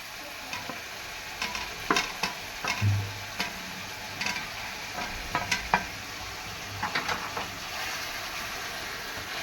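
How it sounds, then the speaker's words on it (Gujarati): Tomatoes frying in a pan for palak paneer, a steady close sizzle broken by repeated scraping stirs and light utensil clicks against the pan, with no voices. "ટામેટા નાખી અને એને થોડું હલાવશું જ્યાં સુધી એ ચડી જાય ત્યાં સુધી"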